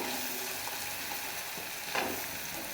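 Pumpkin slices fry in a pan with a continuous close sizzle, and a brief stir or scrape shifts the hiss near the end.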